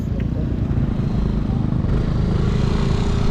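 A motorcycle engine running low on gas idles with a steady, close, low rumble throughout.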